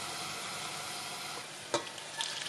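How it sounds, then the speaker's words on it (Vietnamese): Fried shallot and garlic oil poured into a pot of bánh canh broth gives a steady, close sizzle, with a couple of sharper pops and clatters near the end. "Sau đó mình đổ cái dầu hành tỏi phi này lúc nãy chừa lại vô luôn."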